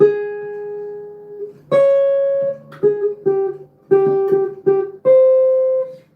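The first four bars of the melody of a song, as single notes on a clean, sustained instrument, a few long tones followed by quicker notes, played alone and clearly.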